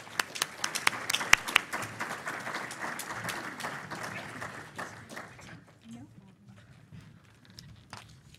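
An audience at a NASA Ames science forum bursts into clapping that welcomes the center director, dense at first and then thinning out and fading to scattered claps.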